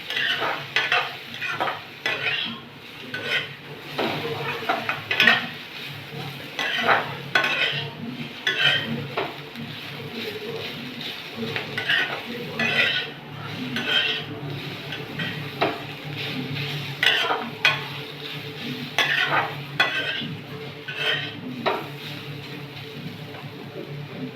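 Ridge gourd skin sautés in a pan for a thuvayal side dish, with a steady sizzle under frequent scraping and clinking of a spoon stirring against the metal, close and continuous.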